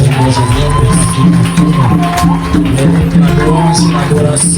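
A French-speaking church congregation acclaiming and cheering loudly, with shouts and whoops under music and vocal tones, in a dense continuous swell.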